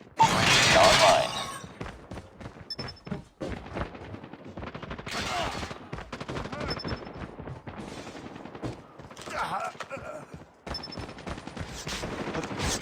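Rapid bursts of Type25 rifle fire in a military shooter game ring out loud and close, repeated throughout amid game effects and brief radio-style voice callouts.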